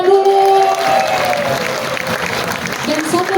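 Audience applause at a symphony orchestra's 20th-anniversary concert, where choirs are being acknowledged: loud, dense clapping from a crowd in a hall, sustained for the whole moment, with a voice speaking over it.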